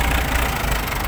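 A CAT 320D2 excavator's heavy diesel engine rumbles steadily up close, a continuous low droning idle with no voices.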